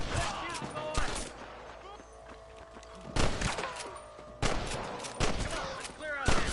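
Gunfire in the Western video game Red Dead Redemption fills a camp shootout with bursts of repeated rifle and pistol shots in clustered volleys, loud and close, with a low steady background between bursts.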